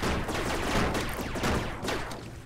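Rapid bursts of laser tag gunfire from the VR game Rec Room, loud and dense, with overlapping shots firing continuously over a couple of seconds.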